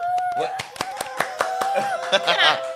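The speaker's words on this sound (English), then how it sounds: "give a round of applause" Scattered hand claps ring out in a short, uneven burst while people talk and laugh nearby.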